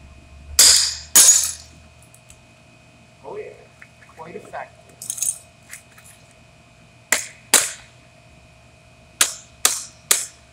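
A Microtech glass breaker strikes hard in sharp, loud cracking impacts, first a pair, then several quick hits spaced by pauses, with scattered quieter knocks and debris sounds between them.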